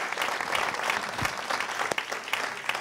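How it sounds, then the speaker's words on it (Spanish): A studio audience at a Canarian parranda music show gives a soloist a full, sustained round of applause, many hands clapping densely and loudly with occasional sharper claps standing out. "Vamos a dar un aplauso a este gran solista"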